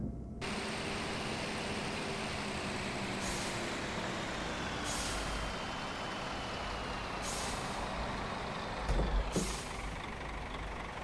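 Simulated truck engine from Euro Truck Simulator 2, driving slowly around 20–25 km/h on a Colombian route: a steady low drone throughout, with brief hissing air-brake bursts recurring every couple of seconds and a louder thump near the end.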